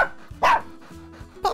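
A cartoon dog barks twice, sharp and close, with a short pause between the barks.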